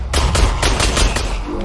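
Rapid bursts of automatic gunfire in a video game, five or six loud sharp cracks in quick succession over about a second and a half, with no talk over them.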